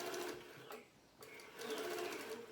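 A sewing machine stitches pillowcase fabric with a steady, fast mechanical whirr, running close by, pausing briefly in the middle before starting again.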